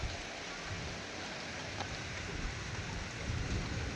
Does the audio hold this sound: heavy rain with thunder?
yes